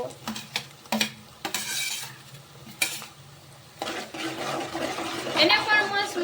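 Onions and green chillies sautéing in oil for dry cabbage Manchurian, with a soft sizzle and repeated scraping stirs of a spoon against the pan, some clinks of utensils, and brief speech in the background.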